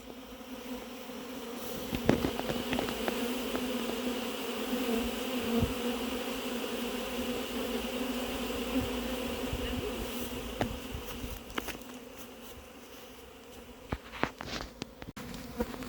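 A honeybee swarm hums with a dense, continuous buzz while being poured into a hive, with individual bees passing close by now and then.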